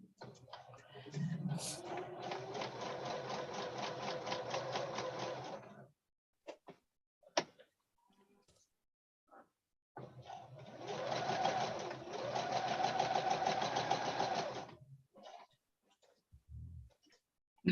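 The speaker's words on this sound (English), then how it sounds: "I'm gonna sew and cut." A sewing machine stitches and cuts fabric in two long steady runs, a busy rhythmic whir lasting several seconds each, separated by a pause with scattered clicks and handling noises.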